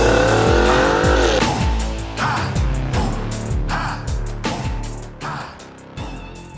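Cars launching hard at a drag race event, with an Audi RS e-tron GT electric car facing Ferrari, Porsche and AMG rivals: loud, close engine roars rising in pitch through repeated gear changes, with tire squeal, steady and continuous.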